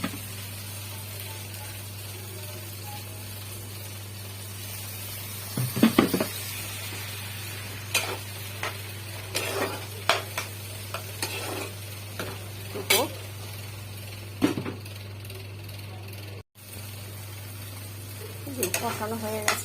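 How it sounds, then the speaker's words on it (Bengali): Masala being stirred and fried with a little water in a pan at home, a faint steady sizzle under an electrical hum, with intermittent scraping and clinks of a spoon against the pan. "এবার একটু জল দিয়ে কষিয়ে নেবো।"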